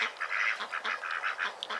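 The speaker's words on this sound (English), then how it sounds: "I did get some ducks." Several crossbred female ducks on an Australian homestead quacking close by in a rapid, choppy series of nasal calls, loud and continuous, with no one talking.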